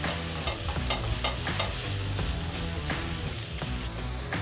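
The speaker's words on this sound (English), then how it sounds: "we're going to add our capers that have been rinsed and drained because they're very salty out of the jar" Rinsed and drained capers stirred and crushed in a hot pan, a steady close sizzle with scraping stir strokes running throughout.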